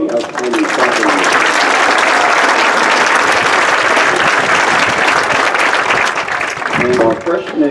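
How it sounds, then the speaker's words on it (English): Crowd at a high school band's meet-the-band night giving sustained applause, loud and steady for several seconds before easing off, with some voices mixed in near the end. "How about a round of applause for the outstanding company?"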